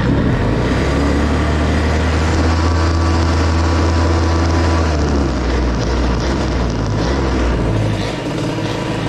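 A two-stroke moped engine with a Doppler Boost setup and high-rev exhaust runs with a steady, loud buzzing drone close by, easing slightly near the end.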